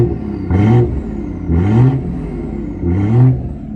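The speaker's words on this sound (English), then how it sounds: "Put it in sport mode, full custom exhaust, and you get some pretty tasty sounds." A BMW B58 engine with a full custom exhaust, in sport mode, revs three times in steady succession. Each loud, rising burst is followed by a drop back toward idle, close by, with no talking.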